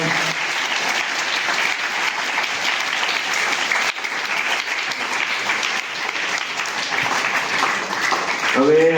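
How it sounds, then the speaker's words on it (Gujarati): Audience applause welcoming two guests at a school event, a dense, steady wash of clapping from many hands that runs loud and unbroken for the whole stretch, swelling slightly at the end. "આપણે આ બંને મહેમાનોનું જોરદાર તાળીઓથી સ્વાગત કરીએ."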